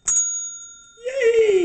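A bicycle-style bell struck once in a kitchen, a clear ringing tone that fades quickly, followed by a voice singing.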